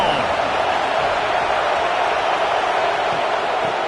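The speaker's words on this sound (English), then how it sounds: "This crowd ready to make its presence known" Stadium crowd in the video game College Football 26 gives a loud, continuous roar that holds at an even level throughout, a dense wash of cheering with no breaks and no talk above it.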